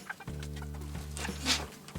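A few low, throaty clucks from chickens sound close by, with a brief higher squawk in between against faint background noise.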